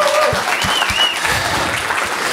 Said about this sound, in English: Let's give them a great big round of applause as well.